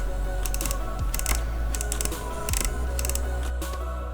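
Typing on a Das Keyboard 4 Professional with Cherry MX Brown switches, close and clear, with quick bursts of keystrokes and short pauses in an irregular rhythm, heard alone.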